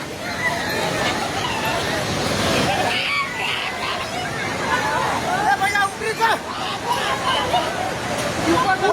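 A flooding river rushing with debris and stones on a Nepal hillside, a loud continuous roar of surging water, with agitated voices and shouting from people nearby throughout.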